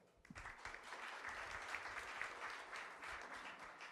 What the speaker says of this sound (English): Let's hear it for Ken and Cordify.